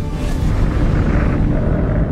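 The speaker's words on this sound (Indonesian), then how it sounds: "Jack dan Fassbinder masuk ke dalam untuk menyelamatkan diri dari ledakan." A deep, continuous rumbling roar, like a large explosion's blast rolling on without a break, loud and heavy in the low end.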